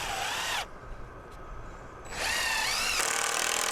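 Power drill driving a screw into a twisted 2x4 on a greenhouse frame: a loud whirring run, a short pause with light clicks, then the drill spins up again and drives on steadily until the end.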